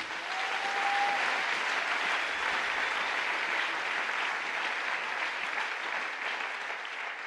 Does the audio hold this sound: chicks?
no